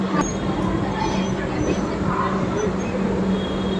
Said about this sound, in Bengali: একদম সঠিক সময় ছেড়ে দিচ্ছে আমাদের ট্রেন ভুবনেশ্বর থেকে